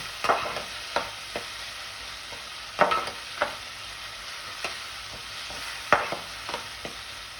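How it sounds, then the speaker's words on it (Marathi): Finely chopped tomato cooks in hot oil for a fish curry, with a soft continuous sizzle broken by sharp spatula scrapes and knocks at irregular intervals, close and with no one speaking. "टमॅटोही आपल्याला तेलावर छान असं शिजवून घ्यायचं आहे"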